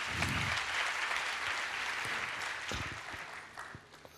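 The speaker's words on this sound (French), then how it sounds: "on applaudit pour elle quand même" An audience claps for a woman being honored at a Friday-night show, a loud burst of applause that holds steady before gradually thinning out and fading at the end.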